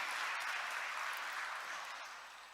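Steady, dense applause from an audience at an emotional tribute gathering. The clapping stays full and continuous, easing slightly toward the end.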